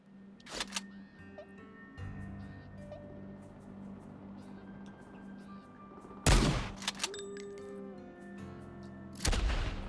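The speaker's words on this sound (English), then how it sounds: "Let's pull out my little shotgun." Shotgun blasts in the video game Worms W.M.D.: a few sharp, loud booms spaced several seconds apart over a low humming game background.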